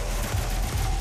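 Dense, steady gunfire roars through the whole moment of DOOM on Xbox One, loud and close with no clear gaps between shots.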